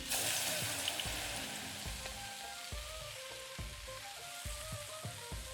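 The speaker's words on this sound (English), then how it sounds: "Sizzle, sizzle, baby." Food sizzling and frying in a pan in the cooking video game Venba, a steady close crackle with soft clicks and thuds of stirring or tapping, no voices.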